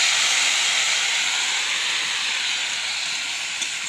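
Spice paste with red and green chilli sizzling in a pan of fish curry over a wood-fired stove, a loud continuous hiss that stays steady and close throughout.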